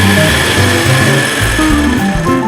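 Electric mixer whisking at its highest speed, a loud, steady high-pitched motor whine that holds continuously and close throughout, with no voices.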